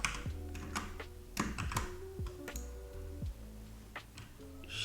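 Keys clack in an irregular pattern of separate taps and short bursts on a computer keyboard as Shift and colon are pressed in vim, close and fairly quiet.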